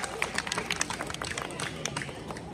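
An audience at a Balinese temple ceremony performance in Penglipuran village gives scattered applause. The claps are fairly faint and distant, sounding as sparse, uneven bursts over low crowd murmur.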